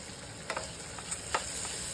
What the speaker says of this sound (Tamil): கொஞ்சமாக 2 பல் பூண்டு பொடியாக வெட்டி வச்சது சேர்த்து அதை நல்லா ஃப்ரை பண்ணிக்கணும்